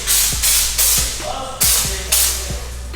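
Spray gun laying Raptor Liner bedliner onto a truck flatbed in repeated hissing bursts, each pass starting with a click and loud spray, about six bursts in quick rhythm, close up.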